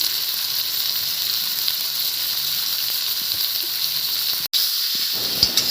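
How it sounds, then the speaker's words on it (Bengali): Chicken pieces sear in a pot for Kolkata-style chicken dum biryani, a constant loud hissing sizzle that cuts out for an instant near the end. "মাংসগুলোকে আমি ভালো করে ভেজে নেব।"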